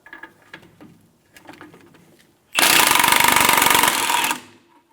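An impact tool spins a 17mm socket to back a nut off the rear shock bolt of a 2005-2015 Toyota Tacoma: a loud, steady two-second burst of rapid hammering that follows a few quiet clicks and handling noises.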